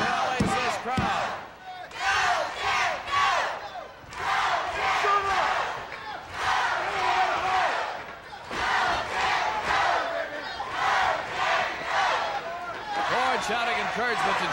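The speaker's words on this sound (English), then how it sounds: "And Frank rallies this crowd" A wrestling crowd at a 1989 USWA show roars and shouts in loud surging bursts that rise and fall over about fifteen seconds, with chanting voices swelling between brief dips.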